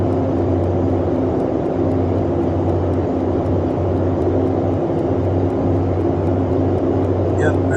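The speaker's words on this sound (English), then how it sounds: "If you want a classic, the external sound, wow, the engine is just beautiful." A Boeing 247D's radial piston engines drone from outside in Microsoft Flight Simulator 2020, a steady, even propeller-plane hum with a low throbbing tone, constant and moderately loud throughout.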